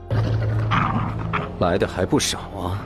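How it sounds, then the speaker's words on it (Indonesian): A pack of black-scaled wolves snarls and growls in an animated fantasy series, loud rough guttural vocalizations and yips close up, layered with narration and dramatic effects. "mereka diikuti oleh sekumpulan serigala sisik hitam"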